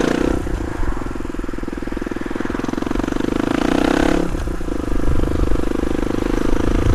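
A Suzuki DR250S fitted with a Dominator R exhaust idles steadily with a loud, throbbing low burble, a brief blip of revs partway through before settling back to a fast, uneven idle.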